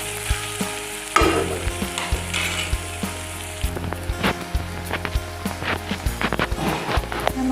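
Ginger and garlic frying in oil in a pan, a loud, crackling sizzle with frequent stirring scrapes and knocks of a spatula against the pan.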